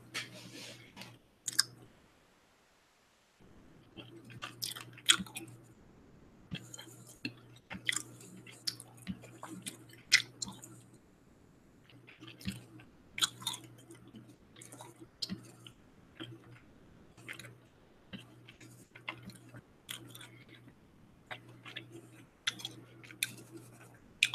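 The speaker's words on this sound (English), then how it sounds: "So if you're not a gum chewing fan, I would say run for your life." Gum chewed close to the mic during a chalk doodling session: a long stretch of soft, irregular wet clicks and smacks, with a brief quiet gap near the start.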